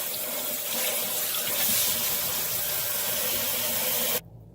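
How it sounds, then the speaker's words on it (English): Tap water runs steadily into a sink as shampoo is rinsed from hair, a close, even broadband hiss that holds for about four seconds and then stops abruptly. "now I'm going to rinse out the shampoo."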